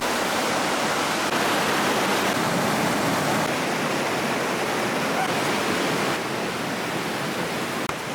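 A river rushes right beside a riverside barbecue at Coto Mines in Masinloc, a loud, continuous broadband roar of flowing water that stays steady from start to finish.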